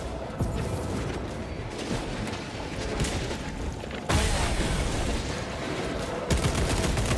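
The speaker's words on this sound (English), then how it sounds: "Throwing frag grenade." A frag grenade and rapid gunfire in a video game: dense, continuous bursts of shots and booms, loud and close, with a sharp surge of firing partway through and another near the end.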